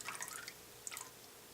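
Faint small splashes and drips of liquid while castile liquid soap is being made, a brief cluster of wet plops followed by a single splash a moment later, quiet and close.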